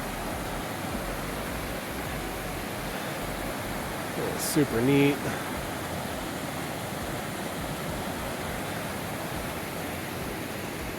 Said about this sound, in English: This creek is really flowing.